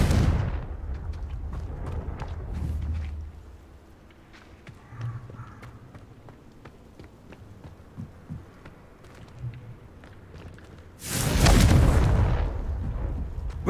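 The Confringo explosion spell in Hogwarts Legacy sets off a loud, sharp fiery blast with a whooshing burst after a stretch of muffled rumbles and thuds, heard alone with no talking.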